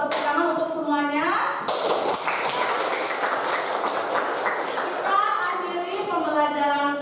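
Students in a classroom clap their hands together in a dense burst of applause lasting a few seconds, with children's chanting voices heard before and after it.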